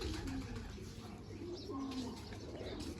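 Pigeons coo as they are placed into a net enclosure in sunlight, with soft low throaty coos repeating close by over a steady background murmur.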